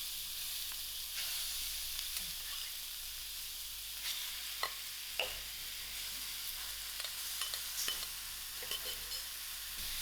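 Cubed chicken breast pieces sizzling in a hot pan, a steady, fairly quiet frying hiss with occasional scraping taps from stirring, and no talking.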